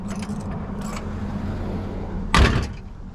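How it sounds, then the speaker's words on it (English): A freshly adjusted car door swings shut with one solid, close slam near the end, after quieter handling clicks and a faint low rumble. "I mean, it shuts good."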